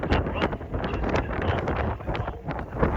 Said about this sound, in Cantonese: 影下啲浪俾大家睇下先，真係好大浪啊！